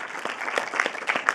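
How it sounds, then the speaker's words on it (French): A burst of applause at an evening event in Paris, many hands clapping in a dense, steady patter from a modest crowd. "tonnerre d'applaudissements"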